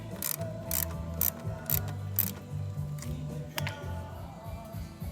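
Ratchet tightening the bolt on an exhaust clamp while installing an IXIL L2X Hyperlow exhaust on a 2015 Honda CB1000R, giving a run of short, close clicking bursts with pauses between them and no talk.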